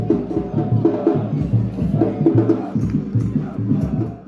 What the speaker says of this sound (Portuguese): é possível ouvir a torcida bastante animada do lado de dentro do estádio